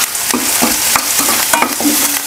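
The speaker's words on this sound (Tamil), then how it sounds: "வெங்காயம் போட்டு வதக்கிட்டு இருக்கிறேன்" Onions and curry leaves sauté in hot oil with a loud, close, steady sizzle, broken by repeated scraping stirs of a spoon against the pan.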